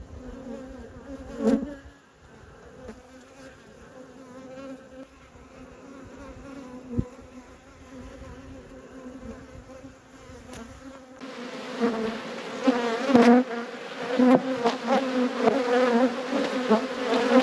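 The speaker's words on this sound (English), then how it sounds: "There's a lot of bees covering the bottom box" A steady, droning hum of many honey bees buzzing close by around an open hive box, growing louder and denser partway through, with occasional handling bumps.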